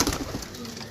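Pigeons offered for sale at a market in Sarai Alamgir coo in short, soft bursts close by, with a faint background murmur and no clear speech.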